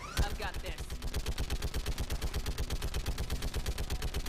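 Rapid automatic gunfire from a video game rattles in a fast, steady burst of evenly spaced shots, loud and close, continuing without pause.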